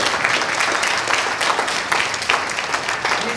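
Audience at a political fundraising event in Mississauga breaks into applause, a full, fluttering burst of many hands clapping with crowd texture, sustained throughout at steady loudness.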